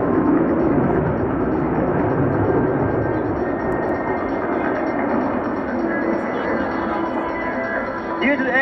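An Italian Panavia Tornado jet performs at an airshow, a loud steady roar of jet engine noise filling the whole stretch with a commentator talking over it.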